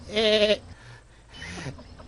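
A goat in the video game Assassin's Creed Odyssey gives a single close, loud, quavering bleat, followed by a softer second call.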